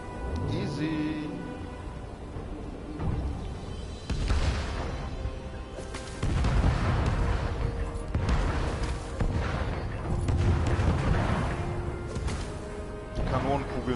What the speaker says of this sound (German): Die Kanonenkugeln sind auch mega cool.